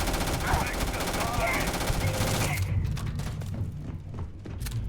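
Rapid submachine gun fire from the video game Starfield rattles in a dense, loud burst for a couple of seconds, then gives way to sparse mechanical clicks and thumps, with low talk mixed in.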